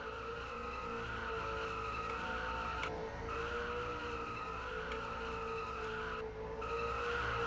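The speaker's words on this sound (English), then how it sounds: "Alpha will now do his burnouts" A race car in a racing video game doing burnouts after a race at Myrtle Beach: sustained loud tire squeal over a droning engine, broken by two brief dips.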